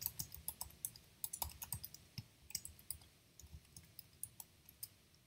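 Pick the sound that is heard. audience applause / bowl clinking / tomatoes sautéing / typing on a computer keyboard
typing on a computer keyboard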